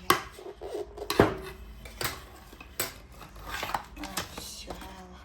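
A knife cuts and chops hard lump sugar on a surface at home, giving a run of close, sharp clinks, taps and scrapes in an irregular rhythm with short pauses between strokes.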